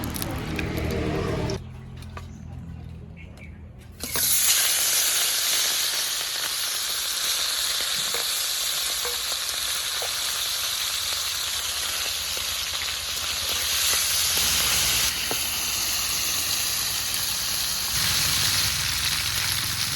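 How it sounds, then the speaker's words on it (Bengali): Hilsa fish heads fry in hot oil for a kolai dal dish, giving a loud, steady sizzle that swells suddenly after a quieter start and then crackles on without a break, with no voices. "এবার মাছের মাথাগুলো ভেজে নেব"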